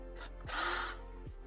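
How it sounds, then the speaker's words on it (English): A reamer bores out holes in 3D printed plastic parts for a Prusa MMU3 multi-material upgrade on an MK4 printer, giving a brief whirring, scraping burst that swells and fades over about a second, with no talk. "I'm gonna ream out these holes as well."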